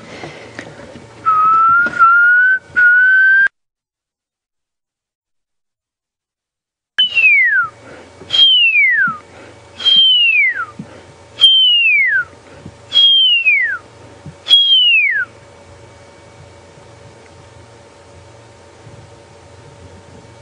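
A person whistles an imitation of a pearl-spotted owl call on a morning safari drive: a few rising notes, a pause, then a rhythmic run of six clear descending whistles, loud and close.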